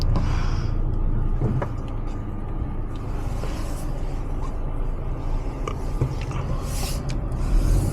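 A 2024 Subaru Outback on the move, heard from inside the cabin as a steady low road rumble and engine hum with faint creaks and rattles, continuous and fairly loud throughout.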